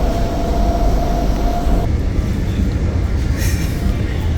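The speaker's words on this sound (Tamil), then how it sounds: "அதான் நம்ம மெட்ரோவில் இருக்கோம்." A Singapore metro train rumbles and whines steadily from inside the carriage, with a high tone that cuts off partway through and a faint voice in the background.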